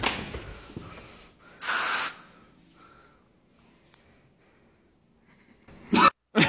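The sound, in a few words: man coughing at the end of a meme video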